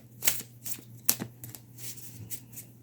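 A Woodland Wardens card deck being shuffled by hand in quiet, repeated riffling bursts, close and soft, over a faint steady hum.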